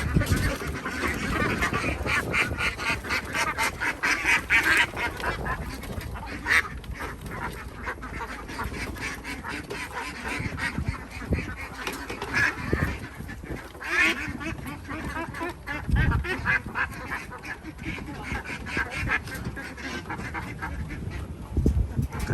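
A large flock of CP Super egg-laying ducks quacks continuously on a farm, dense overlapping calls near and far, loud and busy throughout.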